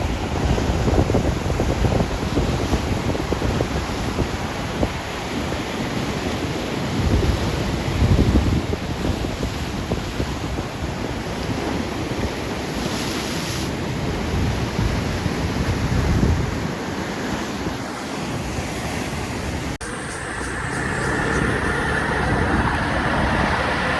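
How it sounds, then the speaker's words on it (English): Ocean waves break and wash in at Banana Bay in Kenting, a steady broad roar of surf heavily mixed with buffeting wind against the microphone, with no talking. "Check out these waves coming in."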